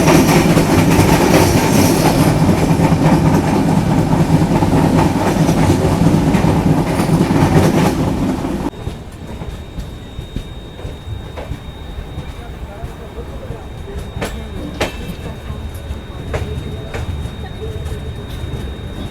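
The Mandovi Express rolls along the rails with a loud, steady rumble and rattle that drops abruptly to a quieter carriage drone, with intermittent clicks and knocks continuing after.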